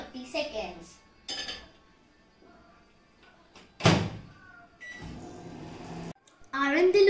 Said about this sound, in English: Let's microwave them for 30 seconds.